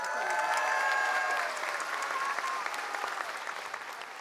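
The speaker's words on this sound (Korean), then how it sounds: "다시 한번 박수 부탁드리겠습니다." A large audience at a song contest claps for a sixth-grade singer who has just won the grand prize. The applause is loud and sustained, with some cheering, and it slowly fades toward the end.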